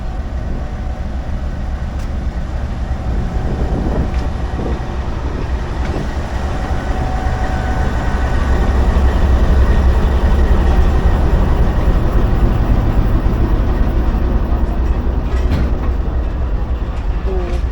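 A Pakistan Railways railcar train led by locomotive GU20 4566 runs from Lahore toward Rawalpindi, a loud continuous rumble of wheels and rolling stock with rhythmic clatter building slightly midway.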